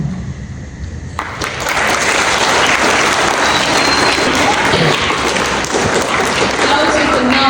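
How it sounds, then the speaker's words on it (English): An audience applauds after a video screening at a live event, the clapping rising sharply after about a second into a loud, sustained wash of many hands. "Let's give another round of applause for that."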